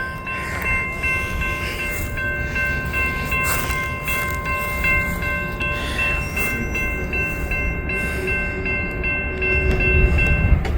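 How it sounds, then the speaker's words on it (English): A freight train approaches a road crossing as the gates come down, its horn sounding in long steady tones over a continuous rumble of rolling cars that grows slightly louder toward the end. "We got a train coming."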